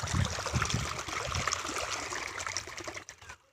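Irrigation water flows into a potato field bed as a steady rushing trickle that is close and moderately loud, then fades out near the end.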